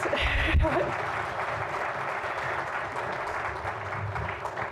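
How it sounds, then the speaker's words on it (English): A crowd claps steadily throughout, the applause starting loud and holding at a sustained level with faint voices mixed in. "Can we give them a round of applause, by the way?"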